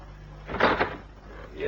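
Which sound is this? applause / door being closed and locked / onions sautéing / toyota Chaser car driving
door being closed and locked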